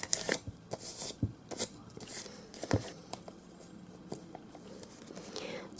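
A sheet of red envelope paper is folded in half for an origami craft, giving soft, close crinkles and light rustling taps, quiet and scattered.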